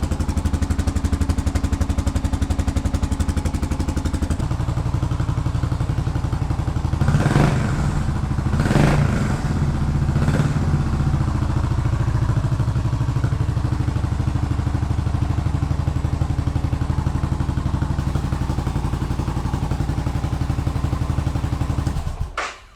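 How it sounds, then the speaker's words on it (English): A Suzuki S40 motorcycle fitted with a Harley-Davidson Sportster exhaust idles with a deep, throaty rumble, steady throughout, with a few sharp revs and crackles partway through before it cuts off. "the stock exhaust off the Harley-Davidson Sportster, and it works really well for more flow and good sound"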